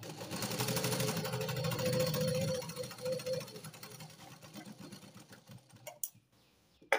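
An electric sewing machine runs steadily for about three seconds while joining small pieces of a blouse lining, its motor hum then fading into softer fabric handling and a few light clicks.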